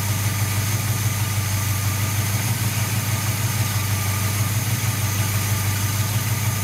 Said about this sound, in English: good running engine. This thing's old and tired. It's got a lot of miles on it.